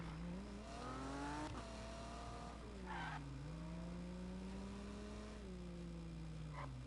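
Porsche in a video game engine droning and rising in pitch with repeated tire skids and squeals while chasing a police car, loud and continuous without talk.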